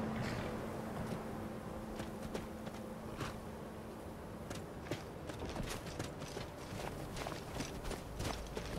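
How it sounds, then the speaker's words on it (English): Horse hooves clip-clop in the video game Wildlander as a steady stream of soft, irregular footfalls over a constant low background rumble. "I hear my horse"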